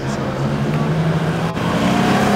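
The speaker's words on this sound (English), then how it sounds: "Bringing along is Aston Martin DB6." A classic Aston Martin DB6 engine drones steadily and loudly close by, a constant low hum with no clear revving or pass-by.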